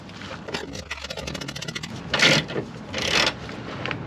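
A breaker bar cranks loose a tight suspension bolt on a Nissan 350Z during a banana-arm fitting, with close ratcheting, creaking and scraping metal that swells in two louder bursts.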